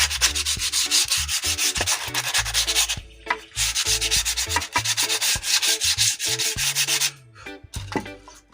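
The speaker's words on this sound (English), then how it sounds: "I'm going to hit it with some sandpaper, just to smooth it off to make it look good. I start off with 60 on this." Coarse 60-grit sandpaper rubs briskly over routed wood in steady back-and-forth strokes, loud and close, with a brief pause midway and no voices.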